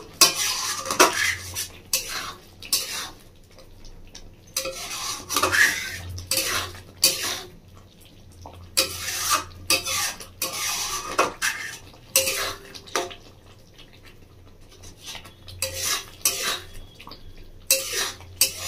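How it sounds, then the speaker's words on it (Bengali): A spoon scrapes and knocks around a pan as tomato chutney with black salt is stirred, making repeated bursts of clattering strokes with short pauses over a faint sizzle, heard up close with no speech. "বিট লবণটা দিয়ে একটু নাড়াচাড়া করে নেবো আরো 1 মিনিট মতো"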